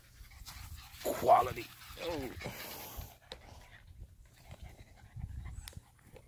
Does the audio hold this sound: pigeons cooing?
no